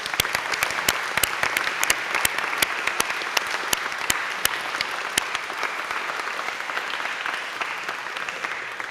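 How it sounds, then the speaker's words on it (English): An audience at an election hustings gives sustained applause, steady and moderately loud, with a few sharp individual claps standing out. "So give them a round of applause"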